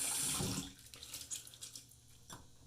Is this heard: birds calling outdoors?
no